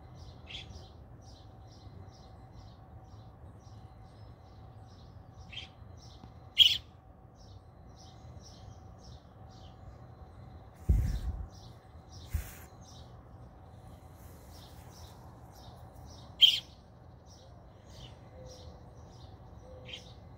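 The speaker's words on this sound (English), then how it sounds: "So she's literally calling to him now." A baby robin calls from near a pine tree while the mother robin answers from the ground, giving repeated thin high chirps that recur through a quiet outdoor scene, with a few louder sharp calls and one low thump.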